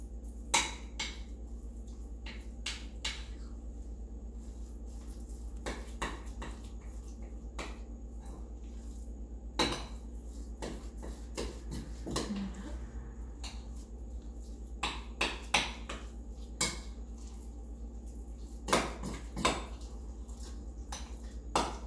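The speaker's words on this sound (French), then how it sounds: "mélanger du coup le thon et le fromage frais" Tuna and cream cheese get mixed in a bowl, heard as scattered utensil scrapes and soft clicks against the bowl, irregular and fairly quiet over a low steady hum.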